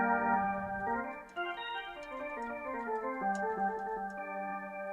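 Roland D-50 synthesizer tones from a computer program playing a slow sequence of sustained, bright chords that shift from one to the next, with no voices.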